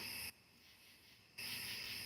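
Insects buzzing outdoors, hornets by their nest, a steady high-pitched drone that drops away briefly mid-clip and then returns at full strength, with no voices.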